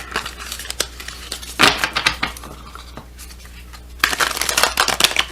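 Self-care cards being shuffled up close, with loud riffling bursts and rapid papery flicks as cards slip and fly out, quieter shuffling between the louder flurries.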